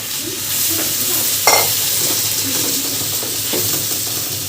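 Onions for chicken biryani frying in hot oil as they are stirred in a pan, with a steady sizzle and a sharp scrape or clank near the middle. No one speaks.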